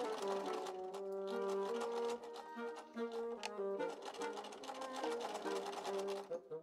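A sewing machine stitches a chemise, running in a steady fast whirring drone with a brief pause and restart midway, close and clear with no talk over it.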